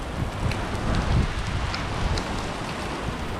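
Rain falls steadily outdoors at a car dealership beside a new Corvette C8, a soft, close patter with a few brighter drop taps over light wind rumble.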